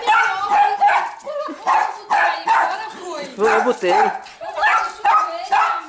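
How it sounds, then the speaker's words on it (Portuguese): Excited dogs yip, whine and bark in quick, repeated, high-pitched bursts close to the recorder, mixed with a person talking. "é a felicidade dos cachorros"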